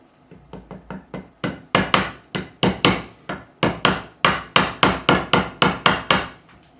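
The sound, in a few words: nylon side of a fret mallet tapping a guitar fret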